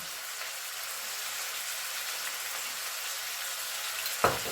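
Filling for potato zrazy, seasoned with a pepper mix and salt, frying in a pan: a steady, faint sizzle throughout with no talking, and a small stirring clink near the end.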